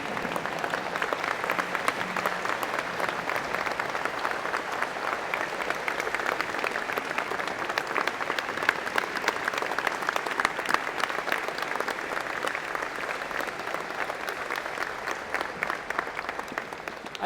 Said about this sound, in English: I want you to give him a big round of applause and a standing ovation for Dr. Lee Master.